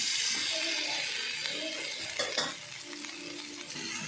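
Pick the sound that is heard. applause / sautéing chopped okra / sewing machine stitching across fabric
sautéing chopped okra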